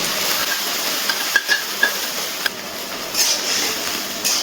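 Ginger-garlic and chili paste thinned with a little water hits a hot pan for a curry, giving a loud, continuous close sizzle and hiss with a few sharp pops and stirring scrapes throughout.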